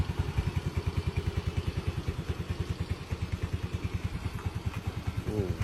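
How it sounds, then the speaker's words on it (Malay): A 2017 Yamaha Ego Avantiz 125 scooter engine idles up close with a steady, rapid pulsing thump, loping evenly throughout with no talking. "jom kita dengar dia punya enjin"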